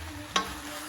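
Flour-coated guinea fowl pieces cooking in a pot, a soft low sizzle with a single brief clack of stirring, close and quiet, no voices.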